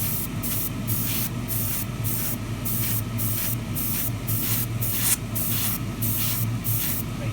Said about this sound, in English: test the flow, make sure the paint's coming out of your edge nicely, and then again, nice light mist coats from different angles